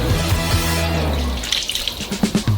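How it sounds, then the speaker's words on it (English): Three hundred millilitres of oil pour in a continuous glugging stream onto a large batch of dough, loud and close, tapering into a few wet slaps and drips. "Pour in 300 milliliters of oil"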